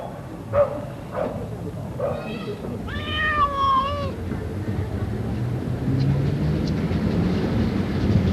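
A cat at a heritage railway station meows several times, drawn-out and close, over low rumbling station ambience with train noise in the background.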